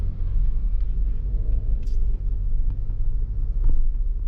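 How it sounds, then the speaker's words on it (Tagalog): Road traffic crossing Buntun Bridge in Cagayan Valley, a steady low rumble of cars and vehicles passing continuously at close range, loud and unbroken with no voices. "Traffic ayun, no? Kita nyo yung traffic."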